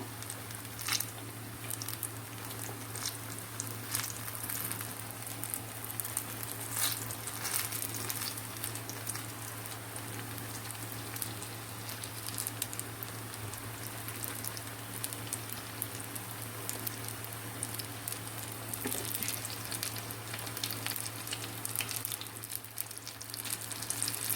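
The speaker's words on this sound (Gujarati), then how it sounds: "મારા બધા ભજીયા નખાઈને રેડી થઈ ગયા છે" Ridge gourd bhajiya fritters fry in hot oil over a low flame, a steady, dense, crackling sizzle that carries on without a break, accompanied by a constant low hum.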